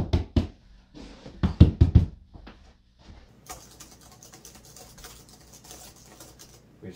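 A wall is knocked several times near a camera-mounted microphone: a run of sharp, fairly loud knocks in the first two seconds, followed by a faint, steady clatter and hiss.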